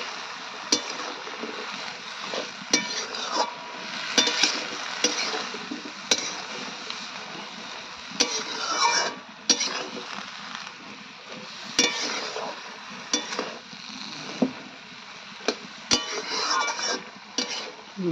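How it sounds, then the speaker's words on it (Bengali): Turmeric, cumin and a little chilli powder fry in a pan while a spoon stirs and scrapes steadily, with clinks of metal on the pan and a soft sizzle running underneath. "দিয়ে ভালো করে নেড়ে চেড়ে ভেজে নেব।"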